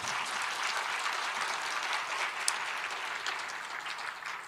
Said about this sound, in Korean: 박수 쳐, 빨리 박수 쳐